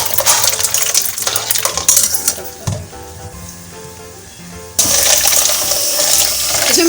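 Ice and water are added to mango syrup for aam ka sharbat: clinking ice and pouring splashes come in bursts, then a quieter gap, then a loud sustained pour of water.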